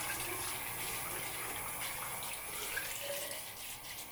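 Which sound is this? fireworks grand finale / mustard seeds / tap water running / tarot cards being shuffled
tap water running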